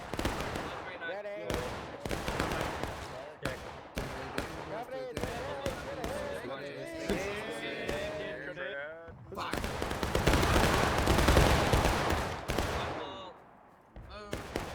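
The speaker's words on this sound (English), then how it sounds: "So far, they're just doing some distance shooting." Scattered musket shots crack at a distance in the Civil War game War of Rights, sharp individual reports spaced irregularly, with voices talking over the gunfire and a denser rumble of firing in the later part.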